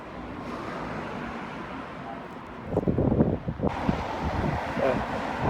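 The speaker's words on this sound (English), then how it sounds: "It's a bit windy, hope you can hear me." Steady wind buffets the microphone outdoors, with rumbling gusts growing stronger midway and distant traffic noise underneath.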